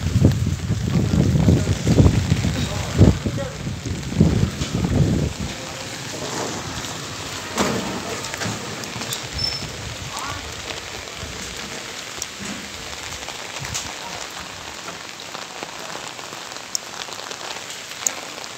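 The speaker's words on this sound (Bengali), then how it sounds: "চলো বন্ধুরা, বড্ড হাওয়া দিচ্ছে।" Rain patters steadily on surfaces outdoors, while strong wind gusts rumble heavily through the first few seconds and then ease, leaving a constant, moderately loud rainfall.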